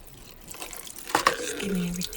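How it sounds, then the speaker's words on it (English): Nail implements being rinsed under running tap water with soap at a sink, a soft splashing flow with a brief louder gush partway through, fairly quiet and close. "Just giving everything a rinse down there."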